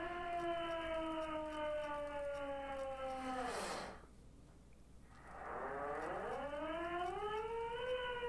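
A hand-cranked siren in the video game Disco Elysium winds down from a steady wail, drops nearly silent, then spins back up into a rising, loud howl, with no talking.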